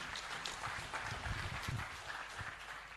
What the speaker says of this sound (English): More hand clap, hand clap.